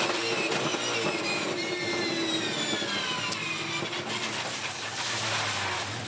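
A race car circuiting Sandown during practice for the Penrite Oil Sandown 500, its engine a loud, continuous roar with pitch sweeping up and down through gear changes, heard close and without talk.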